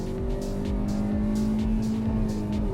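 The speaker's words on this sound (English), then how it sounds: "We'll do second gear, and it redlines all the way up to" A 2025 Kia Seltos HTK (O) revs hard in second gear toward its 6,500 RPM redline, giving a close, loud, steady engine drone with rising harmonic tones.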